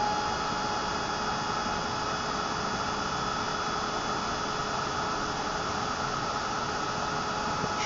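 A heat tool blows steadily over powder coating, melting the powder to a glossy finish; a continuous, even hiss of rushing air with a faint hum, holding level and close throughout with no voices.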